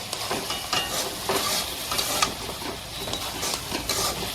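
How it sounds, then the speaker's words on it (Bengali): Halwa paste with coconut fries in ghee in a continuous dense sizzle, close and fairly loud, with soft scraping from stirring and no voices. "এই যে এইখানটাতে ঘি দিয়ে পুরো জিনিসটাকে ভাজা হচ্ছে"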